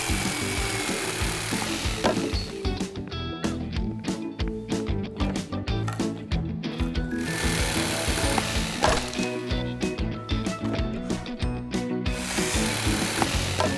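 A cartoon chainsaw cuts through a wooden shelf board with a continuous rasping, buzzing sawing sound that pulses rhythmically for many seconds, close and fairly loud.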